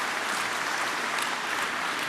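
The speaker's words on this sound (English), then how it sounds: "The applause echoed around the chamber" Dense applause fills a large summit chamber at a Russia–Africa summit, a continuous wash of many hands clapping with a reverberant, roomy quality and no pauses.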